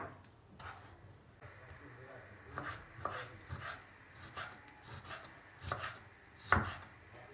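Knife chopping through raw lamb heart with the fat trimmed off, a series of irregular cutting thuds and taps on a board, close and moderate, with quiet background noise between strokes.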